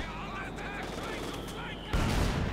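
Dense, crackling gunfire rattles through a Company of Heroes 2 1v1 battle, and a heavy artillery blast booms in near the end of the short burst.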